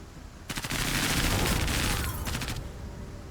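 Gunfire in the tactical game Menace: a sustained burst of rapid shots starts abruptly, runs loud for about two seconds, then tails off into rattling echoes.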